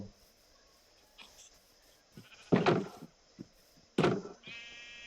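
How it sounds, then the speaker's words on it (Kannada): Sheep bleating in the Minecraft video game, two loud bursts of bleats a second or so apart over a faint game background with soft clicks. "ಈಗ ಕುರಿಗೆ ಮರಿ ಮಾಡೋಣ"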